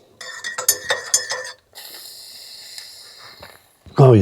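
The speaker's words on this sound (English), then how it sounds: "Got my coffee. I'll stir around." A metal spoon clinks rapidly against the inside of a coffee cup aboard a boat, a quick bright rattle of stirring, then a longer hissing sizzle from breakfast cooking nearby and a brief voice at the end.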